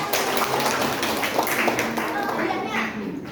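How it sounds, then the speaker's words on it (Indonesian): A classroom of students applauds a group during a poetry-writing lesson, a loose patter of clapping mixed with children's chatter and voices. "Tepuk tangan buat kelompok 1."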